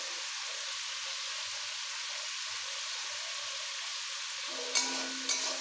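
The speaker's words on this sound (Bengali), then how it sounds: "একসাথে দিয়ে এটাকে ফ্রাই করে নেব।" Chopped ginger frying in a pan of oil for an egg chicken tadka, a steady soft sizzle throughout with two brief louder crackling bursts near the end, no talk.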